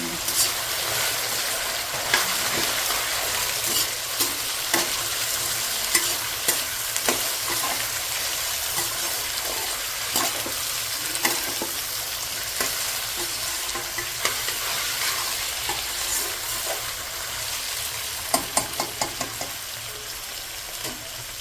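Pieces of taro root (arbi) fry in hot oil in a pan, giving a continuous, dense sizzle broken by occasional clicks of stirring.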